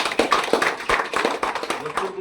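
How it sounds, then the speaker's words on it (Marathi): Applause from a crowd at a political welcome rally in Dodamarg, heard as a dense run of claps under a lot of surrounding noise, with speech mixed in. "जोरदार टाळ्या वाजवायच्या"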